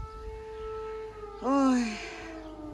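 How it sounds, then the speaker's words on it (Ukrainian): An air raid siren holds a steady, sustained wail in the distance while a voice briefly exclaims over it. "У нас знов повітряна тривога."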